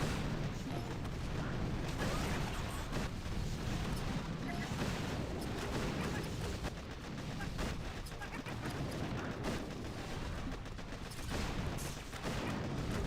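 Heavy cannon fire and explosions roar from a Doom Cannon fighting a Scorched Mega Crab in a video game, a dense, constant barrage of blasts and booms running without a break.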